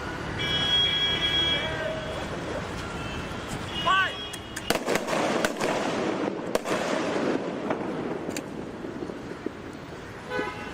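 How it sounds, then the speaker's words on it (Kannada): Anti-riot guns and stun shells fired during a police special wing training drill at Nehru Maidan in Mangaluru: several sharp bangs ring out over busy outdoor crowd noise, with a car horn tooting early on. "ಆಂಟಿ ರೈವೋಟ್ಸ್ ಗನ್ ಮತ್ತು ಸ್ಟನ್ ಶೆಲ್ ಮೂಲಕ ಕವಾಯತ್ತು ನಡೆಸಿದರು"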